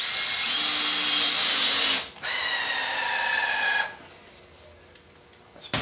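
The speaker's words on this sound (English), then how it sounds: "I'm going to put some 5/8 inch screws up through the bottom here." Power drill driving 5/8 inch screws up through the underside of a plywood multi-function table top, two loud whining runs of the motor with a short pause between them, then a quieter tail.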